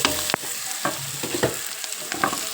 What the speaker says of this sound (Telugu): టమాటా కూడా వేసుకున్నాం ఇది కొద్దిసేపు మళ్ళీ మగ్గనిద్దాం